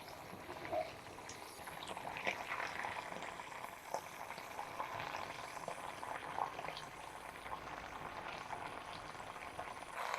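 An herbal ointment of seemai agathi leaves bubbles in a pot on a stove, a faint, steady simmer with soft scattered pops and crackles.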